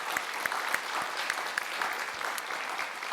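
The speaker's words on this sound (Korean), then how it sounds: "우리 한번 박수로 축하하겠습니다." Church congregation applauding during a Sunday worship service, a steady wash of clapping with sharper individual claps standing out, moderately loud and sustained throughout.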